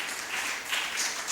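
Audience applause at a Nigerian Bar Association Lagos Branch law week event, a steady wash of clapping throughout the short stretch, moderately distant and fairly soft.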